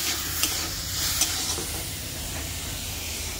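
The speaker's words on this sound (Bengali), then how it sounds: "হলুদ গুঁড়োটাকে দিয়ে আমি কিছুক্ষণের জন্য আমি নাড়াচাড়া করে নিচ্ছি" Turmeric powder is stirred in a hot frying pan while cooking mustard amra chutney. A soft, steady sizzle runs throughout, with occasional scraping clicks from the stirring, heard close and alone.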